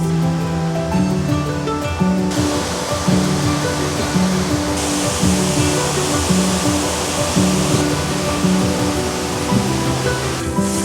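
Steady, full rushing water from a waterfall near Sendai, Japan, a constant broadband roar with no voices.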